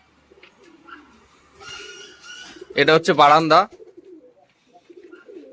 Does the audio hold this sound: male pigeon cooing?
yes